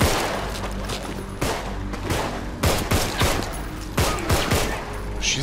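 Rapid, dense gunfire in the video game Contagion, loud continuous volleys with sharper individual shots punching through, and a voice briefly speaking underneath.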